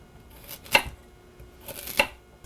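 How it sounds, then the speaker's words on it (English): A knife cuts vegetables into large chunks for oxtail stew, two distinct chopping thuds on a cutting board about a second apart, close and clear with quiet in between. "So I'm going to cut these pieces fairly large."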